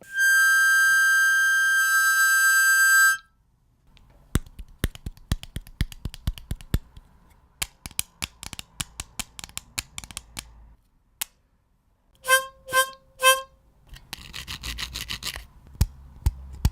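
A sustained reedy harmonica tone gives way to a run of sharp clicks, rasps and taps, then brief pitched chirps and rattling textures, all without voices.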